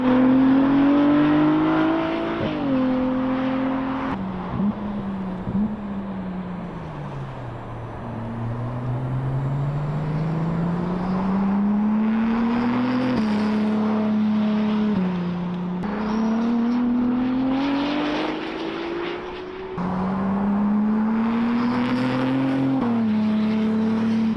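A Ferrari V6 twin-turbo hybrid supercar drives hard, its engine rising and falling through repeated gear changes, with one long dip and climb in pitch. The sound is loud and close, with faint tire noise and no talking.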